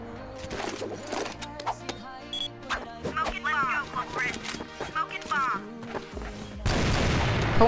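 Rapid bursts of gunfire in the CrossFire shooter, sharp cracks scattered across the scene with dense, loud firing toward the end, mixed with other game sounds and voices.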